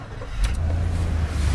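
An Isuzu reefer truck engine turns over and settles into a steady low idle, loud and close, running continuously after the start.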